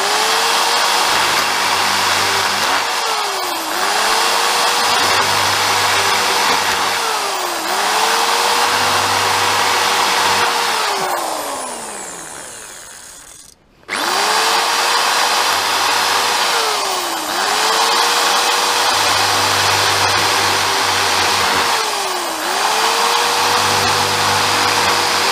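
Power drill with a 9mm bit boring holes for an arm cup on a carbon shaft for a Minelab Equinox 800 metal detector, a loud steady whine that runs in repeated bursts with brief speed dips, pausing once near the middle before resuming.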